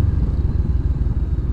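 A Honda XR enduro motorcycle on a high mountain road in Buguias, Benguet gives a steady, loud low engine drone with a pulsing rhythm, heard up close with no talking.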